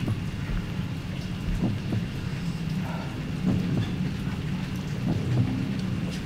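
Steady rain falls in cold weather, a dense continuous wash with a few soft low rumbles of distant thunder beneath it.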